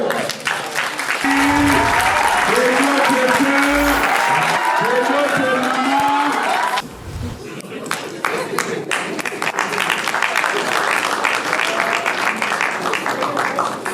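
An awards-ceremony audience applauds an honorary prize winner, steady clapping over music and a voice, dipping briefly before the applause swells again.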